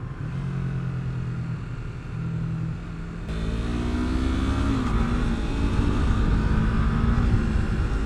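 A Yamaha MT-03 motorcycle engine hums at a steady idle, then the throttle opens and the revs climb into a louder, rising drone that holds to the end, heard up close with wind noise.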